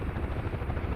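UH-1H Huey helicopter in the DCS World flight simulator, a continuous steady rotor and turbine drone with a rhythmic low thumping of the blades, heard alone.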